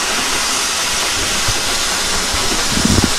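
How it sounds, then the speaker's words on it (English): Former LMS steam locomotive on the West Somerset Railway, giving a steady, loud hiss of steam that fills the scene, with a few low thumps and rumbles from the engine toward the end and no talk. "here's the former LMS engine that's making all the noise"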